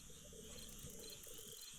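Night insects and frogs chorus in a swamp at dusk in the Empires of the Undergrowth video game: steady high cricket trills with low croaks and chirps underneath, soft and continuous.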